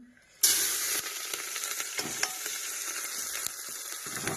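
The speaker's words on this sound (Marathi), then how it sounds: "तेल गरम झालेलं आहे रायचं आणि मी आता कांदा हिरवी मिरची लसण" Onion, green chili and garlic drop into hot oil with mustard seeds and burst into a loud, steady sizzle that carries on with a few clinks and stirring sounds, no voices over it.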